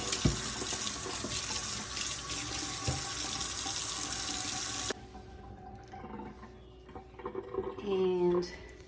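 Fresh rhubarb stalks rinsed under a running kitchen tap, a loud continuous rush of water that stops abruptly midway, followed by quieter handling sounds and a person talking near the end.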